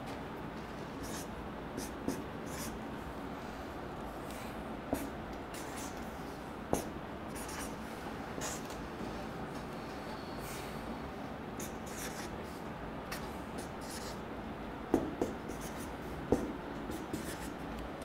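A marker drawing on a board in a chemistry lesson, faint squeaky strokes and taps scattered irregularly through quiet room tone, with no one speaking.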